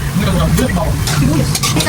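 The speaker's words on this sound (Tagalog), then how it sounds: "nagpiprito po dito ng mga sibuyas" Oil sizzling steadily in a pan with onions frying, a low hum beneath and occasional stirring scrapes.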